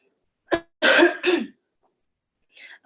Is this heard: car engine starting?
no